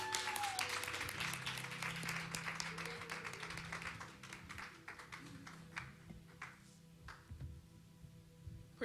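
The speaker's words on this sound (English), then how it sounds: "Keep on clapping." A church congregation at a Sunday youth week service claps continuously, loud at first and gradually thinning to scattered, fading claps, with faint voices and music in the background.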